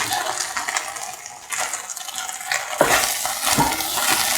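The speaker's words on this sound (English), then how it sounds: "Put in the tomatoes," Tomatoes go into a hot pan for an okra peanut stew, setting off a steady, loud sizzle and frying crackle with stirring scrapes throughout and no voices.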